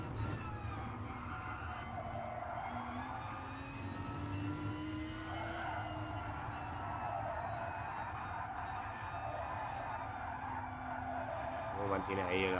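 Onboard engine of a race car on the Mount Fuji circuit, a steady, loud engine drone with pitch that rises and falls through gear changes and corners, continuous throughout with a faint voice underneath.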